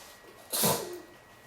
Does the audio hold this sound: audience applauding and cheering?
no